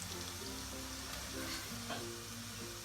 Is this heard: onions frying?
yes